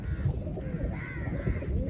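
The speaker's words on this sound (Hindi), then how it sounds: "ये अपने कबूतर हैं" Pigeons coo softly on a rooftop loft, faint low murmuring calls over a quiet background without talk.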